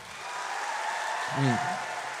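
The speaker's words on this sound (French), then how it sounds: "Par applaudissement, ceux qui savent de quoi qu'on parle" A live studio audience claps with steady, dense applause throughout, with a brief voice rising over it midway.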